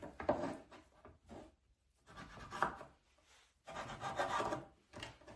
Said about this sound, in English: I like trimming off my fat pieces.